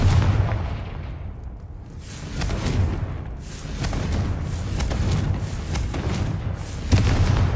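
Repeated Confringo fire spell blasts in the Hogwarts Legacy game, a string of deep booming explosions and crackling bursts that roll on with little pause and keep up a loud, dense rumble.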